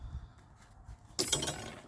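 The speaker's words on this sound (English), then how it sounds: "And now I'm going to cut a wire." A piece of wire coat hanger snipped with a cutter, a quiet handling noise followed by a bright metallic clink and brief ringing rattle, close and alone.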